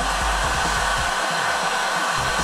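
A heat gun blows steadily and loudly on the back of wood edge banding to melt its glue, a continuous close-up fan-and-air roar with no speech.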